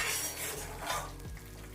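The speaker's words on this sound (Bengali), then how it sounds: "এরপর আমরা ভালো করে এটাকে আরেকবার ভেজে নেব" Spices with Kashmiri chilli fry in a pan for a rohu fish gravy, giving a close, steady sizzle broken by scraping stirs of a spoon against the metal, with no voices.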